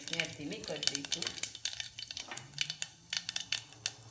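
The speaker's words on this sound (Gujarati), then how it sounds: "તેલ ગરમ થઈ ગયું છે. હવે નાખીશું જીરું, રાઈ, રાઈ તતરી જાય પછી થોડું હિંગ નાખીશું" Cumin and mustard seeds crackling in hot oil in a pan, with rapid popping and spattering over a low hiss, close and moderately loud, with a faint voice at the start.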